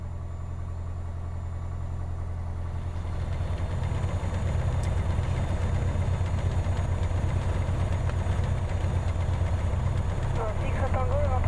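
A light aircraft engine idles steadily while taxiing at an aeroclub apron toward the holding point, a close low drone heard from the cockpit, with a pilot's radio call spoken over it.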